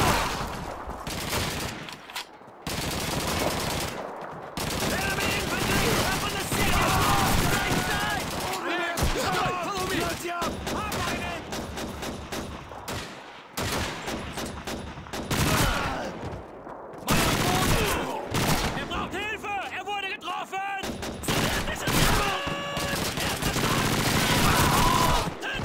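Heavy gunfire in the World War II shooter Call of Duty 2, with dense bursts and volleys of shots across most of the stretch, loud and close, while a player talks excitedly over the fighting.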